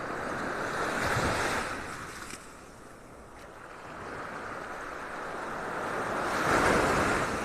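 Ocean surf rolling onto the beach at Delnor-Wiggins in North Naples, Florida, on a rough morning stirred by a tropical depression, with steady wind noise over the microphone; the wash swells, eases in the middle, then builds again, with no talking.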